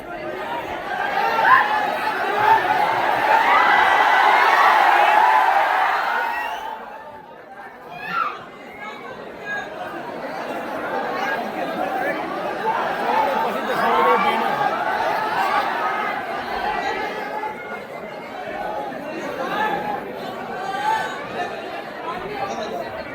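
A large crowd chatters continuously, with a louder dense burst of voices early on that settles into a steady murmur of overlapping talk and occasional laughter.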